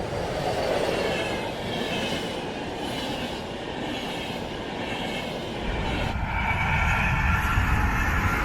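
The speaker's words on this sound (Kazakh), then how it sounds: "Бұл экспресс пойызы." An express train rumbles past close by, a steady loud roar of wheels and carriages with faint clatter on the rails, keeping up its full power right to the end.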